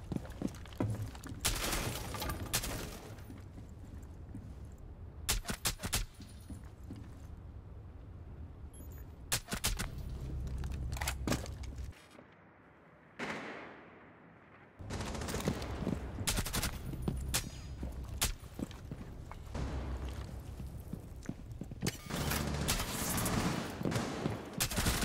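Gunfire in Rainbow Six, rapid bursts of close, loud automatic shots in repeated volleys, pausing briefly before resuming in dense strings.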